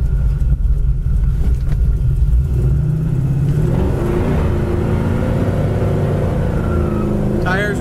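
A 1964 Chevrolet Nova's engine rumbles loudly and then builds as the car accelerates toward 70 mph, the pitch rising steadily through the second half, with someone talking over the first part.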